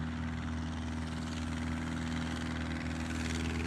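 A Bücker Bü 131 Lerche biplane's engine pulls hard for takeoff downhill on a grass strip, a steady, loud droning roar with a constant hum and no pause throughout.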